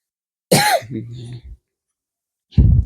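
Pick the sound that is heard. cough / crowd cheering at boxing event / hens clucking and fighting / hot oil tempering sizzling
cough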